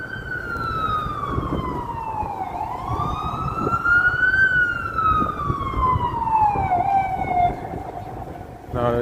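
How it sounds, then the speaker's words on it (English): Ambulance siren wailing in Times Square, New York City, rising and falling in long sweeps over steady street traffic rumble, loud and fairly close, with faint voices mixed in. "ambulance."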